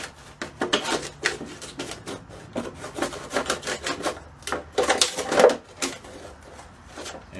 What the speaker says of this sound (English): And now I'm going to cut around this plant, this pot.